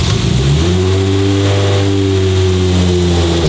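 Toyota Supra MK4 with a turbocharged engine running loud and close, revving steadily with a strong low droning tone that rises slightly and holds throughout, no talking.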